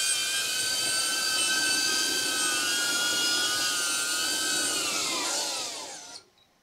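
A DJI Avata FPV cinewhoop drone flies close by with a loud, steady propeller whine and buzzing harmonics. The pitch bends downward near the end before the sound cuts off abruptly.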